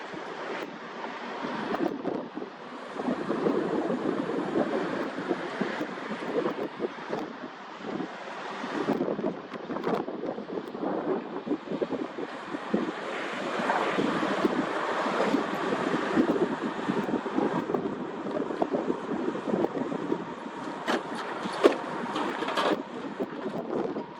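Wind blows steadily outdoors on a breezy morning, buffeting the microphone with a continuous loud roar that rises and falls in gusts.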